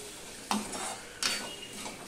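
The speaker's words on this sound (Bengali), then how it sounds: "এবার সম্পূর্ণটা ভালো করে মিশিয়ে নিচ্ছি" A spoon stirs tomato, green chili and ginger paste in a pan: two quick scraping strokes over a faint background sizzle, quiet and close.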